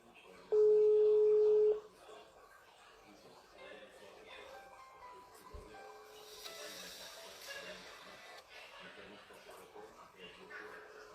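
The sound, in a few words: telephone ringing tone while calling someone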